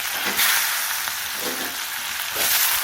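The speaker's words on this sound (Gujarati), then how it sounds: "4 પરી જેવું તેલ નાખ્યું છે. એના અંદર લસણ અને આદુ અને મરચાં" Garlic, ginger and chillies frying in hot oil, a steady bright sizzle that swells in short bursts of crackle and spatter, with no talk.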